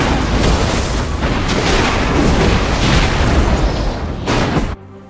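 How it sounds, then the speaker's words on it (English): Inhibitor being destroyed in League of Legends, a loud sustained rumbling explosion with bursts of crackle lasting several seconds before cutting off abruptly into near silence. "Your team has destroyed an inhibitor."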